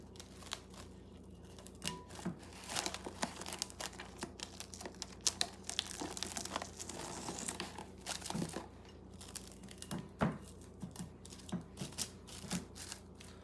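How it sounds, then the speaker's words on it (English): Plastic wrap crinkles and crackles while being stretched over a bowl of smooth batter, a quiet, steady stream of small irregular crinkles and snaps heard up close, with no talking. "we must now cover with plastic wrap"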